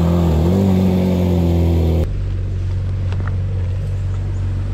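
A 2018 Ferrari 458 idles and rolls out of a garage, its engine a steady close drone that drops to a quieter hum partway through.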